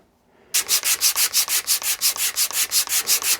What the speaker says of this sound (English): finishing this off with some sandpaper